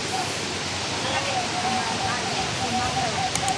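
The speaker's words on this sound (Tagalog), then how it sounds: "Tumalog Waterfalls. Ay, ang ganda, oh." Tumalog Waterfalls in Cebu sends up a steady, dense roar of falling water that holds even and unbroken throughout. A voice can be faintly heard under it.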